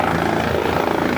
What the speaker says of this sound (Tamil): சரி, பார்த்தீங்களா ஹெலிகாப்டர் வந்துச்சு.